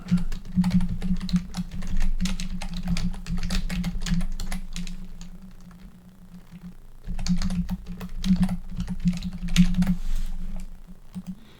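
Steady computer keyboard typing while a web link is entered, with dense rapid keystrokes running through most of the span, a brief lull midway, then another fast burst; close and fairly loud with no talking.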